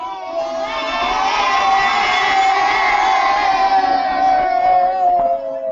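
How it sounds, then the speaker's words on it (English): Crowd of schoolchildren cheering and shouting together in classrooms, a loud sustained roar of many young voices that swells and holds for several seconds before trailing off. "Give me a wave and a cheer in your classrooms if you knew that raisins were the French word for grape"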